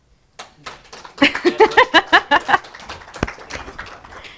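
After a talk on creative freedom, a small audience breaks into applause: scattered claps at first, then a run of distinct, rhythmic claps that thins into lighter, looser clapping near the end.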